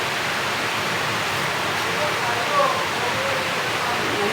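Water at a rolling boil in a cooking pot for tinolang isda, a Filipino fish soup, gives a steady, even, fairly close hiss and bubbling that runs unbroken throughout.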